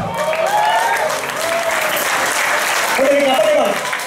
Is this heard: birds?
no